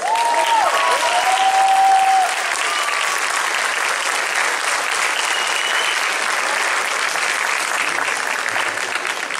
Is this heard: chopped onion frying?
no